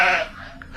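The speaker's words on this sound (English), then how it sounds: "It was just a stray sheep." A stray sheep at night gives a single short bleat that fades quickly, fairly close, followed by faint quiet.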